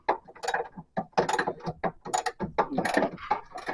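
A ratchet tightens the three front bolts on a car being built, producing rapid bursts of loud, close metallic clicking in a steady back-and-forth rhythm with short pauses between strokes.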